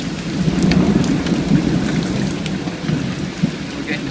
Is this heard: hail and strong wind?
yes